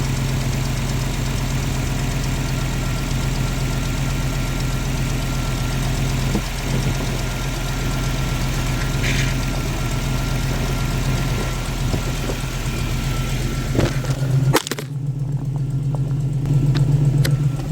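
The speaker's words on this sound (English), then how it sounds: "I'm going to turn the wheel back and forth a few times." A 2000 Toyota Tundra with a 4.7 V8 idles with its power steering pump being serviced while the wheel is turned back and forth. A steady, close, low engine hum runs throughout, with a brief clunk and a shift in tone near the end.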